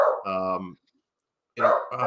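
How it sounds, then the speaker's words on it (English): A pet dog barks twice indoors, a loud harmonic bark, a pause of silence, then another close bark. "That is my dog barking naturally."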